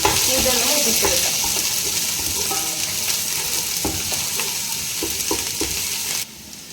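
Masala paste for chicken biryani fries in a pan with a loud, continuous sizzle, broken by scraping stirs, until it cuts off near the end.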